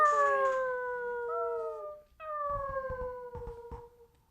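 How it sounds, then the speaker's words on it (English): Wolves howl in long, drawn-out, gliding wails in a Dracula audio drama. Two sustained howls are separated by a brief pause, and the second has overlapping voices and a faint rustle beneath it. "The howling of wolves was growing less."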